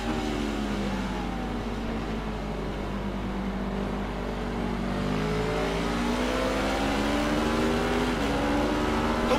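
A Honda motorcycle engine accelerates in the racing game Ride 4, a steady loud whine that climbs in pitch through several gear changes, continuous and close throughout.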